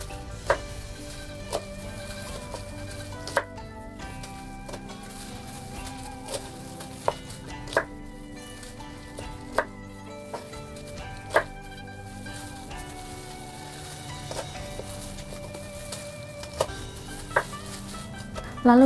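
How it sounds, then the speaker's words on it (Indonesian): A kitchen knife chops fresh green mustard greens (sawi) in a steady rhythm of crisp, evenly spaced cuts, each a sharp tap against the board, heard close over quiet background music. "ini sayurnya potong sampai selesai daun"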